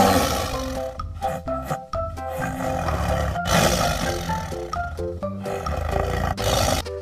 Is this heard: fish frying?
no